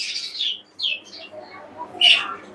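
Shrill, raspy calls of two-month-old sun conure chicks, a few loud screechy bursts close by with brief pauses between them.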